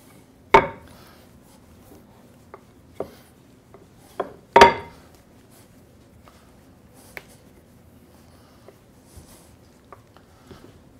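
Pie dough for a wild turkey pot pie rolled out on a floured surface, heard as scattered soft wooden knocks and rubbing with two sharper thumps in a quiet kitchen.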